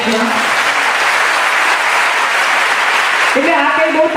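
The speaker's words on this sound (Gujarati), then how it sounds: "આ કઈ બહુ તાળી પાડવા જેવી વાત નથી" An audience at a motivational speech applauds with dense, steady clapping for the full stretch, while a voice is heard speaking over the start and end of the applause.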